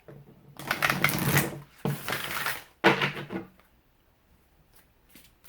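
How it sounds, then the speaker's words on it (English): An oracle card deck being shuffled by hand, three bursts of riffling and flapping cards separated by short pauses, close and fairly quiet, fading to near silence at the end. "I'm going to shuffle, pull a deck from the Natural Enchantments Oracle"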